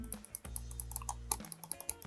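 Top buttons of a GamePro gaming mouse click in a fast, sharp series of close, quiet ticks, with a low hum underneath.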